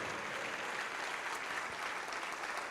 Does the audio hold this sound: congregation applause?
yes